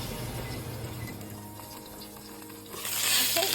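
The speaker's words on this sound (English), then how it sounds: "Took the broccolini out of this pan, and I'm going to add in the mushrooms." Mushrooms fry in a pan of olive oil with a steady, close sizzle that swells louder near the end.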